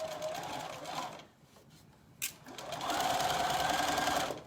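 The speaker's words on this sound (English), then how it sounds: "we're going to just stitch forwards and backwards" A sewing machine stitches a summer skirt seam in quick runs forward and then in reverse, its close mechanical whir pausing briefly and picking up again, strongest toward the end.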